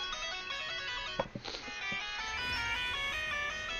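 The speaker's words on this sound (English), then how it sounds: "Sorry, just listen to my ringing tone, please" A phone ringtone plays a bright, repeating electronic melody nearby, steady for several seconds with a few soft handling knocks and faint background noise beneath it.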